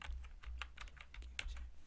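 Quick, steady typing on a computer keyboard as a captcha code is entered, with a run of rapid light key clicks at moderate, close range and no voices.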